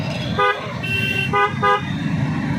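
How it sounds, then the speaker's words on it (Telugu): Car horns toot several times in quick, short blasts over a steady rumble of night road traffic at the Venkatagiri Polaramma fair. "ట్రాఫిక్ కూడా ఎక్కువ అవుతూ ఉంది"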